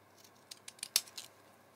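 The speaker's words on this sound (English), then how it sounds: "going to go back to my fancy scissors and I'm trying to cut the same pattern as I had on the previous round" Fancy scissors with a scalloped blade snipping through a recycled Christmas card, a handful of quiet, crisp cuts spaced unevenly, one sharper snip standing out among them, close and faint with no talking.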